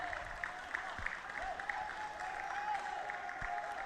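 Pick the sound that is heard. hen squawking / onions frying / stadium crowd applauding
stadium crowd applauding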